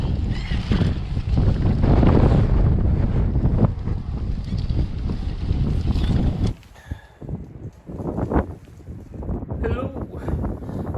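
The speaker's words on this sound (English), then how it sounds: "Yeah, that wind's strong." Strong wind buffets the microphone of a cyclist riding alongside others, a loud continuous roar and rush that drops away abruptly partway through, with voices talking in the quieter stretch after.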